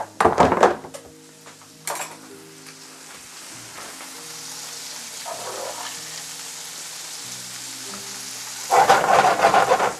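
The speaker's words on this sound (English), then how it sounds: "I'll keep stirring them as they're cooking" Small chopped pieces of food stirred in a pan over a flame, with scraping utensil strokes and clinks at the start and end over a soft, steady sizzle, no talking.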